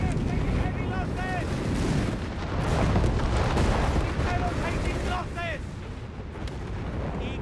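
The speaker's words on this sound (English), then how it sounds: "We got the Obicha howitzer barrage on the victory point." A heavy howitzer barrage rumbles continuously in a Company of Heroes 3 battle, dense booms and thuds layered with distant gunfire, loud and sustained under a caster's voice.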